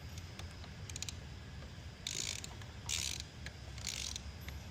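Socket wrench with a 1-inch socket on an extension ratcheting an oil filter loose on a Cirrus SR22 Turbo engine: a few quiet clicking bursts early, then three louder rasping ratchet strokes, close up in a calm hangar.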